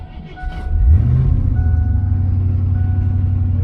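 A car engine cranks briefly and catches, then settles into a loud, steady, rough idle with a deep rumble that holds to the end.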